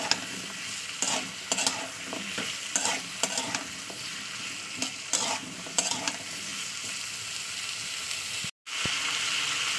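Potato and mixed vegetable pieces sizzle in oil while being stirred, with repeated scraping and clattering strokes of a spoon against the pan over a steady frying hiss, ending with a brief dropout.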